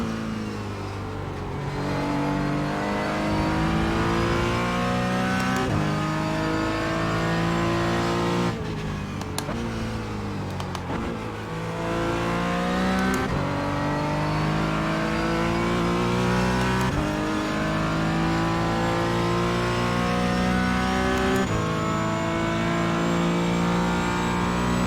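A Porsche Cayman GT4 race car engine howls loudly and continuously during a race, climbing in pitch through each gear and dropping sharply at every shift, with repeated rising pulls close by.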